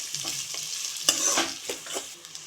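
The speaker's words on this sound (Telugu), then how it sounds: "ఇప్పుడు మనం సన్నగా తడిచి కట్ చేసుకున్న ఆనియన్స్ వేసేసుకున్నాం ఆనియన్స్ కూడా కాస్త వేగనివ్వాలి" Finely chopped onions frying with green chillies in a pan for capsicum masala curry, crackling sizzle broken by repeated scraping stir strokes, close and fairly loud.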